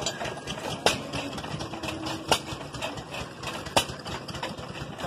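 A small engine runs steadily at idle at a tractor and engine show, its chugging rhythm broken by a few sharp periodic knocks, fairly close and alone.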